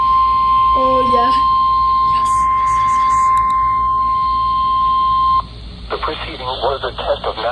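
A NOAA weather radio weekly test of its warning alarm plays a steady, loud, high single tone for several seconds after brief data bursts and beeps, then cuts off as a voice starts speaking over radio static.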